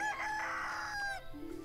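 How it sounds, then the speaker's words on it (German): A rooster crows in the farming game Everdream Valley, one clear, drawn-out cock-a-doodle-doo with a rising and falling call, quiet and alone, trailing off into a short cluck. "So, dann haben wir den Hahn."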